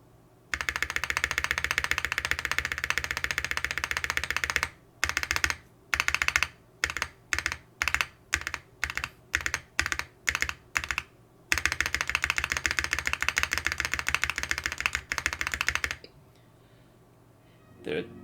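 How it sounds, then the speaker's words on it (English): Typing on a rebuilt Polaris75 mechanical keyboard, its spacebar pressed in a fast steady stream, then in separate spaced strokes, then in a quick run again. The strokes are close and crisp, with no talking. "this keyboard has the best spacebar in my entire collection"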